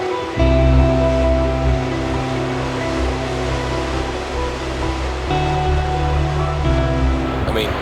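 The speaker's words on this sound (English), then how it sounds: "Waves crashing against the rocks." Ocean waves crash against coastal rocks in Cornwall, a steady, loud broadband roar of surf with continuous rumbling wash and no clear breaks between swells.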